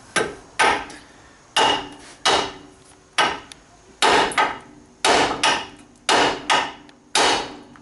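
Hammer striking a GMC Envoy outer tie rod end to shake it loose, about nine sharp metallic whacks at a steady, slightly uneven pace, loud and close with ringing decay between blows.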